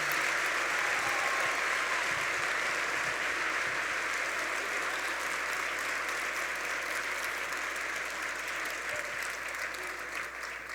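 A church congregation claps loudly and steadily for Jesus during a worship service, a dense sustained applause that holds strong across the whole stretch and eases only slightly near the end.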